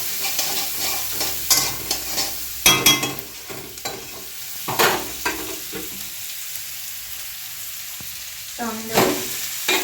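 Chowmein noodles frying in hot oil while being tossed, a loud sizzle broken by repeated bursts of scraping and stirring, close and uneven, no talking.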